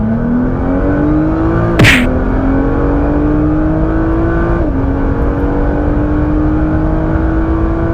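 A Nissan GT-R launches off a drag strip start on throttle alone without launch control, its engine roaring loud and close as the pitch climbs steadily, with a brief shift break partway through.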